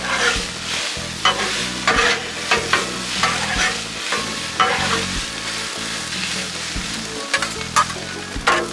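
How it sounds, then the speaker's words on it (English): Shrimp and garlic stir fry sizzling loudly on a Blackstone griddle as it is stirred, steady frying hiss with repeated scraping and tossing strokes of a spatula throughout. "Mix it all up."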